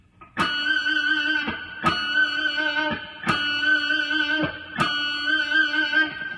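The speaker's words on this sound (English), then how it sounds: "Here's number 4A with distortion." Four distorted electric guitar notes, each struck and held about a second and a half, sustaining brightly with a gritty, saturated tone and no talking.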